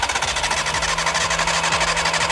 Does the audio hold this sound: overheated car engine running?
yes